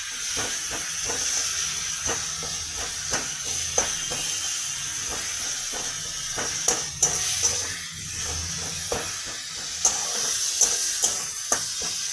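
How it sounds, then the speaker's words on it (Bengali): Spices and Kashmiri chili sizzle and fry for Bengali-style chana dal, a steady close hiss with soft repeated taps and scrapes of stirring throughout. "রঙটা ভালো হওয়ার জন্য একটু কাশ্মীরি লঙ্কা দিয়ে ভালো করে কষে দেবো।"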